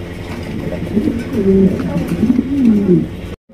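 Lahori pigeons cooing close by, with several low, rolling coos that rise and fall over a busy background murmur and stop abruptly at the end.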